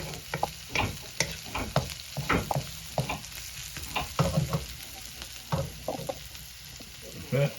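Onions sizzle quietly in a pan while a utensil stirs them, with irregular scraping clicks over a soft frying hiss.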